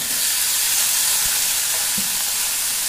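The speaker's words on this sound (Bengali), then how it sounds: "এবার কুমড়োটা একটু ভেজে নেবো ছোলার সঙ্গে।" Pumpkin, potato and chickpeas fry in hot oil in a pan, a dense continuous sizzle with a couple of soft stirring knocks, close and loud, no voices.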